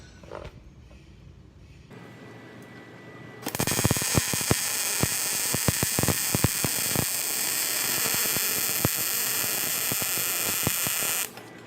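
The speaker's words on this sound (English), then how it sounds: "let's do a little bit of welding" Metal hive base pieces are welded: after a quiet start with a low hum, a loud, steady buzzing crackle with sharp pops runs for about eight seconds, then cuts off abruptly.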